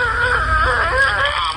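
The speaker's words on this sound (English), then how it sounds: "I must grease this door" A door creaks open in a long, wavering, whining creak of about a second and a half, loud and close, with no other sound over it.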